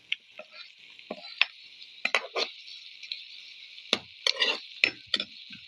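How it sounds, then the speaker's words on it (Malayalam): Onions and tomato with salt being sautéed in a pan for fish curry, a thin steady sizzle punctuated by several sharp spatula scrapes and clinks against the pan, close and without speech. "കുറച്ച് ഉപ്പും കൂടി ഇടുന്നുണ്ട്. നമ്മൾ വഴറ്റിയെടുക്കുന്നുണ്ട്. അരമുറി തക്കാളിയും കൂടി ഇടുന്നുണ്ട്."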